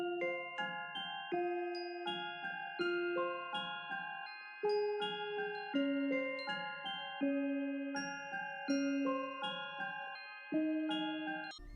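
A dark, bell-like melody loop made in FL Studio with the lows cut by EQ and a half-time effect, plucky tones repeating in a slow, spaced rhythm at a soft level.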